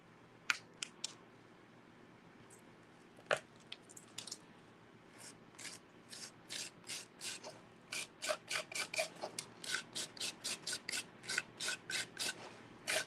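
A small plastic scraper spreading texture paste across a craft surface: quiet, rasping strokes that start sparse and become a fast, steady rhythm of close scrapes.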